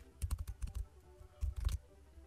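Quick bursts of typing on a computer keyboard, soft close clicks in two short clusters separated by a brief pause.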